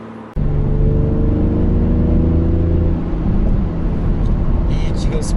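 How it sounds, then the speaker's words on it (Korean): A BMW X4 M40d in sport mode cruises with a low, steady droning engine and virtual exhaust note over road and wind rumble inside the cabin, holding an even tone without breaks. "스포츠 모드에서의 그 가상의 배기 사운드 느낌이요, 고속에서는 되게 좋습니다"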